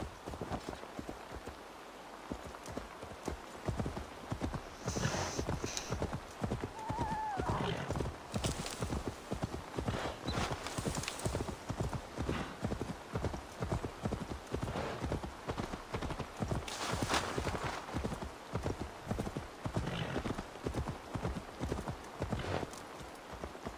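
Horse hoofbeats in Assassin's Creed Valhalla: a steady, close clip-clop of galloping hooves runs throughout, with a brief whinny and scattered background game sounds, while a voice talks over part of the ride.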